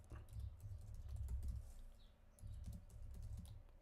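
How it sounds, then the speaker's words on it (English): Typing on a computer keyboard: quiet, steady clusters of soft key taps in two bursts with a short pause between, no talking. "I'm just typing this to let them know"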